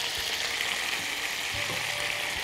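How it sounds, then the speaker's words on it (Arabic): Chopped onions sauté in a hot pan for a chicken breast dish in mustard sauce, a steady close sizzle with a few soft stirring scrapes and no talking. "بس البصل كده اخد تقليبتين زي ما انتم شايفين"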